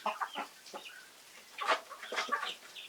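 Chickens cluck in short, irregular bursts close by in a newly built coop, with several birds chattering over one another in a quiet setting.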